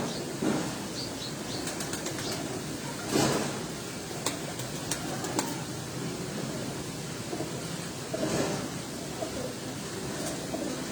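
Pigeons on a rooftop flap their wings in a few soft whooshing bursts over steady outdoor background noise, with no talk.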